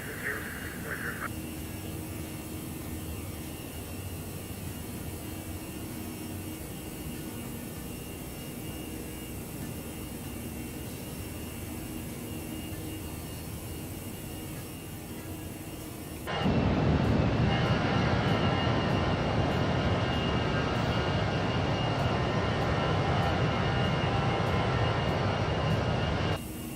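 The jet engines of a ToLiSs A319 airliner in the X-Plane 11 flight simulator hold a steady cockpit rumble, then abruptly surge into a loud, broadband roar as the takeoff roll accelerates.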